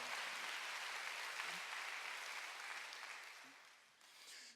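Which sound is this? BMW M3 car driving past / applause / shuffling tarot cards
applause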